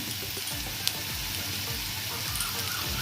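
Onions fry in a pan with salt and turmeric, giving a steady, even sizzle with faint scraping and stirring underneath throughout.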